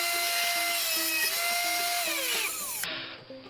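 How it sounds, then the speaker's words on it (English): A power drill whines at a steady high pitch, then its tone drops and shifts as the bit bites through a banjo peghead, winding down near the end. "I'm going to shut up now and drill another couple of holes."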